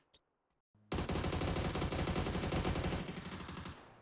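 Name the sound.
MG3 machine gun firing in PUBG video game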